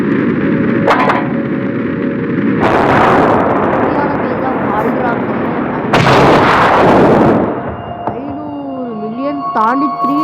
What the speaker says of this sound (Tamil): அங்கிட்டு போய் எல்லாம் வெடிக்குது